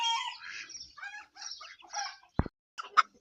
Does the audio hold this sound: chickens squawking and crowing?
yes